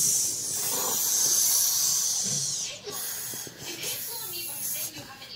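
A person imitates a snake with a long, breathy hiss, followed by quieter hissing breaths and bits of voice.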